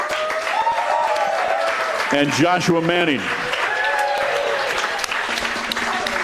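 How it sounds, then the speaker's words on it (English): Audience applause at a Mizzou football Tiger Talk show, a steady round of clapping that runs throughout under a voice introducing players. "How about a round of applause"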